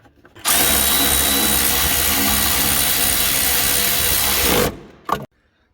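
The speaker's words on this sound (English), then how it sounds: "we put this back plate over top, and we're gonna get some of these bolts started" A power tool runs continuously for about four seconds, loud and close, a steady whirring drone as it drives bolts into the chaincase back plate of a 2014 1100 Turbo snowmobile, then stops, followed by a brief clack.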